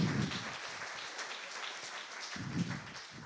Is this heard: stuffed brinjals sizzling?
no